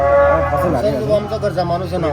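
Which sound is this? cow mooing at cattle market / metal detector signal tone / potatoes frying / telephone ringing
cow mooing at cattle market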